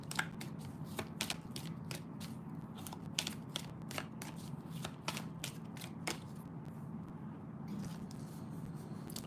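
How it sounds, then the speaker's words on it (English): A deck of tarot-style cards is shuffled quietly and close, with a rapid run of crisp riffling snaps and clicks before one card is pulled, faint and without talk. "Let's pull a card for you."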